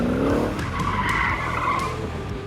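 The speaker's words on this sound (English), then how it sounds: "This is my 2006 Corvette C6, and it's a full-scale remote control car" Tires squeal loudly as a full-scale remote-control 2006 Corvette C6 skids, a sharp screech at the start giving way to a sustained scrubbing squeal with engine drone underneath, close and prominent.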